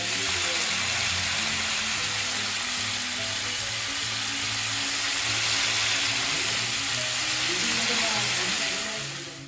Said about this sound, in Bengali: প্রথমে চিকেনটা তেলের মধ্যে ডাইরেক্ট দিয়ে মানে হালকা ভেজে নিলাম